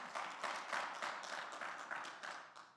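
A church congregation claps together in quick, fairly steady rhythmic bursts, faint and distant-sounding, lasting throughout with no clear voices over it.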